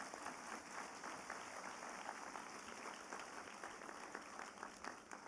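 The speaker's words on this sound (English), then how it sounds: "Please join me to give your parents the biggest round of applause." A graduation commencement audience at SMU's Lee Kong Chian School of Business gives sustained applause for their parents. A large hall fills with steady, dense clapping that sounds distant and soft throughout, with no voices over it.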